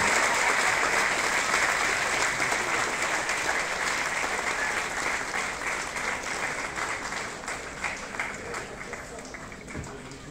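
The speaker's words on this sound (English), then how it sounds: "I request everyone to kindly give a round of applause." An audience at a government inauguration ceremony gives a sustained round of applause, dense steady clapping that stays loud throughout and eases slightly toward the end.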